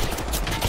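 Rapid video-game gunfire rattles in a dense burst of shots during a ranked match, loud and close, with no clear pauses across the short stretch.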